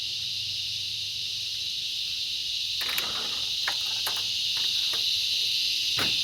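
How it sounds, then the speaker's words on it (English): Cicadas in tropical trees drone loud and steady as a continuous high buzzing wall, with some nearby footsteps and knocks underneath. "The cicadas are very loud"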